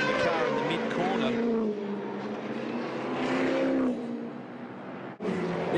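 V8 Supercar race car at the Bathurst circuit, its engine roaring loud and close as it revs and shifts through a corner, with tires squealing and a sharp drop in sound near the end, under race commentary.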